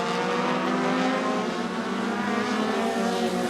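Short track race cars roaring around the circuit in a steady, loud blend of engine drone, with no speech over it.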